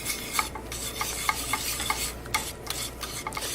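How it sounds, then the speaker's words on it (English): A spoon stirs sauce in a pan, scraping and swishing in a steady repeated rhythm of soft close strokes, with no voices over it. "You'll just stir this around until it's a really nice, smooth consistency."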